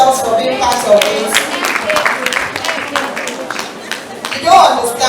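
A crowd at an APWEN Town n Gown event claps for itself in a dense, close round of applause mixed with cheering voices and chatter, swelling again near the end.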